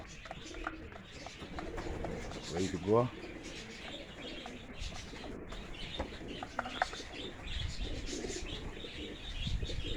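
Racing pigeons coo softly and rustle in their basket before a training toss on a cloudy, rainy day, with low murmuring calls and a brief flutter of wings, while someone talks nearby.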